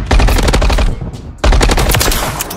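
Rapid bursts of automatic gunfire from the video game Modern Warfare 3, loud and close, with two sustained volleys separated by a brief pause.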